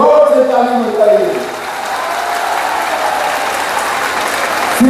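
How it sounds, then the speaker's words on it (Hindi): A large crowd at an outdoor election rally in Palghar applauds loudly for Eknath Shinde, with dense, continuous clapping and a voice briefly heard at the start beneath the swelling ovation. "एकनाथ शिंदे जी के लिए जोर से ताली बजाइए"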